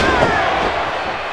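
A wrestler's limp body is slammed down onto the ring mat during a wrestling show, one heavy thud under loud, continuous broadband noise from the crowd and arena.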